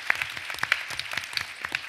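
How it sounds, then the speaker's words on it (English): Scattered audience clapping at a panel discussion during a summer convention, a couple of seconds of separate sharp claps at moderate level rather than a dense ovation. "I want to say thanks for clapping"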